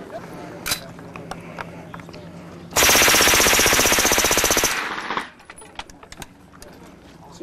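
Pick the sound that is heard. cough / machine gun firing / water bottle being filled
machine gun firing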